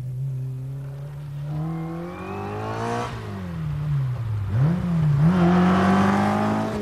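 A 1966 Fiat 600D converted into a Fiat Abarth 1000 Berlina Corsa racing saloon revs its engine close by, pitch climbing and dipping through several throttle blips, loud and alone.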